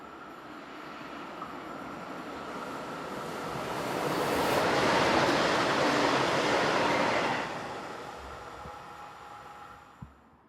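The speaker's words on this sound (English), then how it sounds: "4024-108 heads east with the 1744 from Salzburg to Linz" An ÖBB class 4024 electric multiple unit on a Salzburg–Linz local service passes by, a broad rushing roar that swells from a distant approach to a close peak and then fades away.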